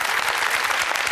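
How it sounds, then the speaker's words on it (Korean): Brief, dense applause from a talk-concert audience welcomes a software company founder onto the stage, a continuous wash of many hands clapping together. "오재철 멘토께 뜨거운 박수"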